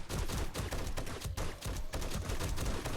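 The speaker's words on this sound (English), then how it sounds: "the dart turrets can actually do some damage" Dart turrets in 7 Days to Die fire a dense, rapid fusillade of sharp shots, loud and continuous with brief gaps, with no talk.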